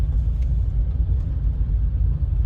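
A Renault 19 Europa 1.6 engine hums at low pitch under acceleration with steady road rumble, heard from inside the cabin, loud and continuous without speech.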